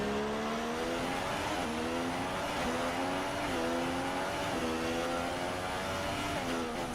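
A Formula 2 race car engine, the Manor team car in a Chinese round, drones continuously and loudly, its pitch falling in repeated downshift steps as it brakes, under constant broadcast background.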